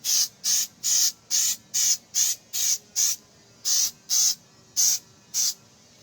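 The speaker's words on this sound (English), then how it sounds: "we're going to see what it looks like if I spray more paint on it" Spray paint hisses from a can onto wood in about a dozen short, evenly spaced bursts, close and fairly loud, with quiet pauses between them.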